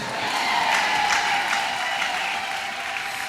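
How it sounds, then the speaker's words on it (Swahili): A church congregation applauds in a steady, dense wash of clapping that holds at an even level from start to finish, with a faint voice underneath. "Mpigie Bwana Yesu makofi."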